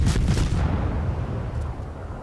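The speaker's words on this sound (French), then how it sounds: "Et bien sûr, il tire au canon." Warship cannon salvo in World of Warships, several close booming blasts at the start rolling off into a fading rumble, no voices.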